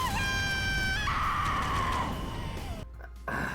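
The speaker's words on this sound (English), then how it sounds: "the way she screams" A Persona 5 Strikers character lets out a long, loud scream that wavers and fades over tones from the game, then cuts off abruptly before the sound resumes.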